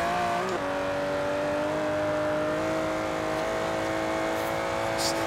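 An Aston Martin Vantage GT12 road racer with a 593 hp engine races in Forza Horizon 3, its engine holding a loud, steady high-revving drone with a brief pitch drop at a gear change near the start.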